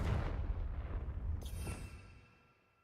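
A Confringo fire spell explosion in the Hogwarts Legacy video game, a deep rumbling blast that sustains briefly with a crackling burst and then fades away into silence.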